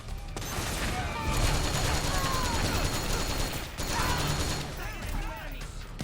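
Sustained suppressing gunfire in Metal Gear Solid 4, a dense, continuous fusillade of rapid shots with mechanical clatter running for the whole stretch, loud and close, with a brief gap partway through.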